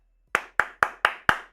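Five crisp hand claps ring out in an even, steady rhythm, close and sharp, each one followed by a short decay, with no talking over them.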